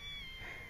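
Cats and kittens found outside during Hurricane Irene meow continuously and fairly close, a high steady cry running through the whole brief moment over low rumbling background noise.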